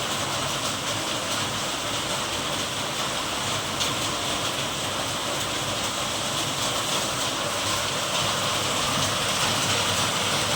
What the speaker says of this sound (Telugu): ఎట్లా పడుతుంది చూడండి వర్షం.